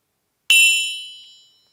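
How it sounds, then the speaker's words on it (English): A cheap desk gong bought from Temu is struck once, ringing out with a bright metallic shimmer that decays steadily over about a second, close and alone. "it's a gong from Temu, so the gong sound is not the greatest"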